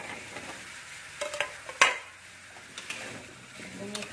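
Chicken and potatoes being stir-fried in a pan, heard as soft, scattered scraping and clinking of a utensil against the pan over a low background, with one sharper metallic clack partway through.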